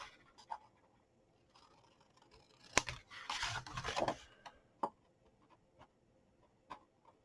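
Scissors snipping through folded card paper for a fun fold box card: a few isolated crisp clicks, then a short burst of close scratchy cutting, quiet and with no voice.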